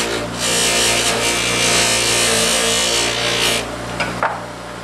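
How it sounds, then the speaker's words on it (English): Buffing compound pressed against a spinning buffing wheel on a bench while making a body slapper: a steady loud whirring rub that stays constant, easing near the end with a couple of small knocks. "just a little bit of buffing compound on this wheel"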